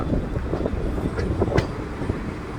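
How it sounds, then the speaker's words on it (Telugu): Sai Nagar Shirdi Express rolling into platform 1 at K Samudram station, a steady low rumble of rail noise with faint wheel clatter and a brief squeal, continuous and fairly distant. "మన ట్రైన్ వచ్చేసి ఈ కే సముద్రం రైల్వే స్టేషన్లో ప్లాట్ఫామ్ నెంబర్ 1కి అయితే వచ్చిందండి."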